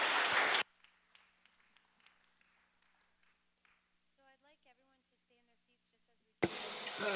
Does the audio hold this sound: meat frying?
no